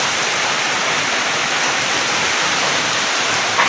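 Floodwater rushes during Typhoon Odette amid heavy rain, a loud, unbroken roar of churning water close by with no pauses.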